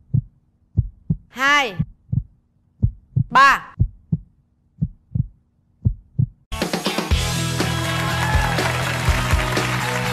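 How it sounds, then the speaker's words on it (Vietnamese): Heartbeat sound effect of paired low thumps, evenly spaced, with a couple of swooping voice sounds between them, then loud music takes over. "Hãy lắng động lại và nghe nhịp đập trái tim mình."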